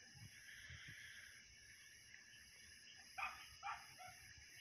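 Dogs howl far off at night, faint drawn-out wails over a steady insect chorus, with a couple of short, slightly louder cries near the end.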